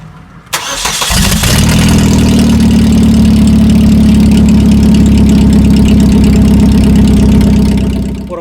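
A car engine cranks and fires up with its exhaust pipe cut off and no muffler. It settles into a loud, throaty, booming idle that holds steady up close for several seconds.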